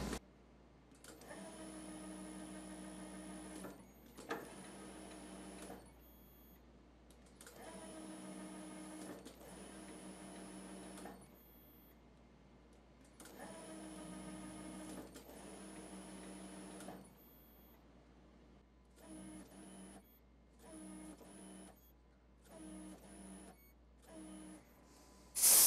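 A lathe threading a part in hard copper with a non-topping insert sends out a steady machine whine with strong harmonic tones. It comes in three long passes of about four seconds each, then shorter bursts, all close and with no talk.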